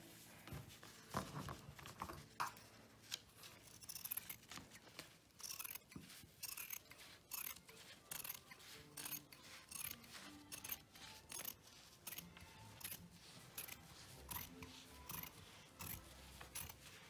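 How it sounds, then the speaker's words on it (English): The top layer of jacket fabric is cut in a run of quiet, close, repeated snips with short pauses between cuts and no voices. "are now going to cut the top edge of the fabric."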